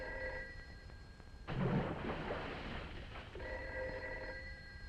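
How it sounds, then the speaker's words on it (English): An old-film telephone bell rings in steady sustained tones, broken midway by a burst of loud broadband rumble before the ringing resumes. "Of all the cockeyed times for the phone to ring."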